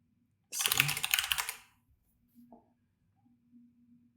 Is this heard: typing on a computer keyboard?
yes